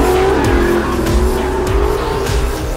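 A 700-horsepower car drifts fully sideways through downtown streets, its engine roaring loud and continuous while the tires squeal in long, wavering screeches close by.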